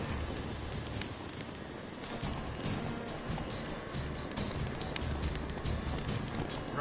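Roach, Geralt's horse in the video game The Witcher 3, gallops with a continuous run of hoofbeats over steady outdoor ambience, with faint bird calls in the background.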